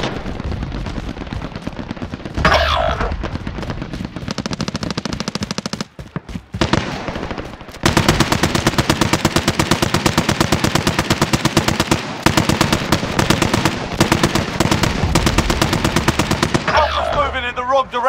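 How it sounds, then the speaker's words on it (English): Dense automatic gunfire and heavy weapon bursts in a video game battle, loud and nearly continuous with brief gaps, sustained rapid volleys dominating throughout. "Under hostile fire."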